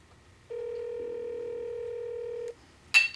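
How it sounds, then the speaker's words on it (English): A single steady telephone ring tone hums for about two seconds on an otherwise quiet line, followed moments later by a brief click. "It's ringing, finally."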